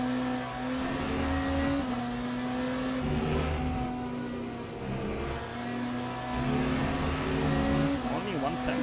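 Race car engine in the Le Mans Ultimate racing game, a steady whining drone that rises and shifts with gear changes, heard throughout beneath a voice talking.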